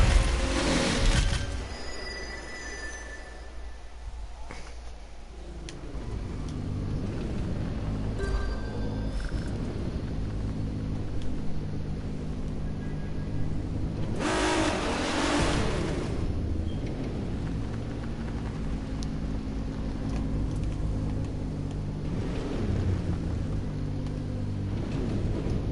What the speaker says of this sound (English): a lot of smoke and a lot of wheel spin and a lot of screaming from your engine